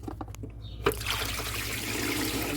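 Coolant gushes out of a Jeep Cherokee XJ radiator into a bucket below. A few faint clicks come first, then a steady splashing trickle starts abruptly and keeps flowing, close by, under a low hum.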